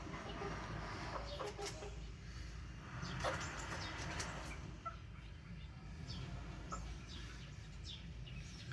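A hen clucks in her raised coop where she has laid eggs. The clucks are faint and scattered, sitting under a steady hiss of outdoor background noise.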